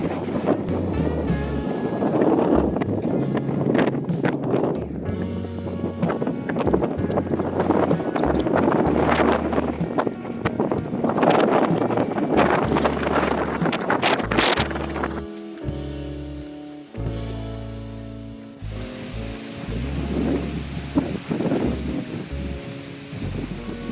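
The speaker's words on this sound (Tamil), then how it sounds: "இந்த ஏரியாவில் காற்று எப்படி அடிக்கிறதுன்னு பேக்ரவுண்ட்லேயே வந்து என்னோடய வாய்ஸ்லேயே வித்தியாசம் தெரியும்" Strong wind blowing at Chitharal rock temple, a loud continuous roaring buffet against the microphone that gusts and briefly drops before resuming, with no voices over it.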